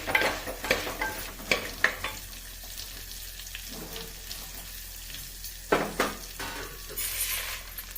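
Cumin seeds and garlic frying in oil for a pickled jackfruit palya, a crackling sizzle with intermittent spoon scrapes and clinks against the pan, close and fairly quiet.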